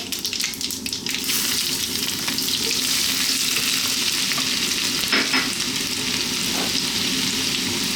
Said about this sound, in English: now we're going to add in our garlic and ginger